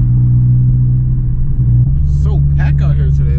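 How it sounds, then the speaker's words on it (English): E-tuned car engine idling with a deep, steady low rumble close by, a slight shift in tone midway, with someone talking over it toward the end. "Car sounds good though."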